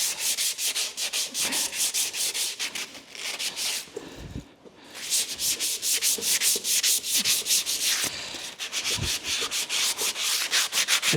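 Sandpaper rubbing back and forth over a painted or primed panel on an RB200 build, steady rhythmic strokes close up with a brief pause midway, no voices.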